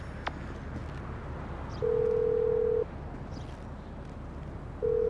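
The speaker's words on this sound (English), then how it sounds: "Whoa, who changed my ringtone?" A phone in GTA 5 sounds a steady electronic tone in two bursts, one lasting about a second and another starting near the end, over a constant background hum with no talking.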